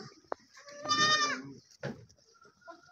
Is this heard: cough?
no